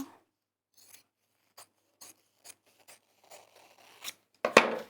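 Scissors snip through fleece fabric in a series of sharp, close, separate cuts with short pauses between them, ending in a louder crunchy cut.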